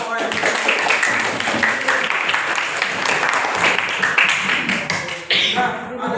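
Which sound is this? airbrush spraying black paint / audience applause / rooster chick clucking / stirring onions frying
audience applause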